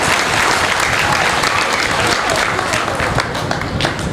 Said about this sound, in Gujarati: આવો આપણે આ બાળકોને જોરદાર તાળીઓથી વધાવીએ